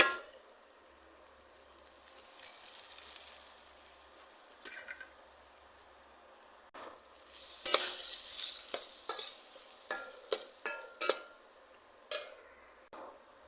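Boiled chana dal and boiled potatoes dropped into hot oil for a tomato dal, a quiet sizzle that swells, followed by a series of sharp metallic clangs and scrapes of a spoon against the pan.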